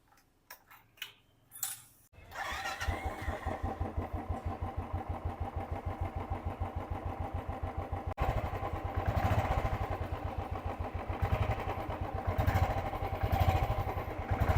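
A motorcycle engine cranks with a few clicks, then fires and settles into a steady, close, rhythmic idle with a regular ticking pulse that grows slightly louder and rougher partway through.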